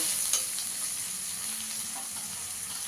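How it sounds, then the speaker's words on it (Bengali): Spice paste fries with already fried potatoes in a pan, a steady bright sizzle with faint scraping of stirring underneath, continuous and fairly close, no talking. "মশলাটাকে ভালো করে কষিয়ে নিতে হবে।"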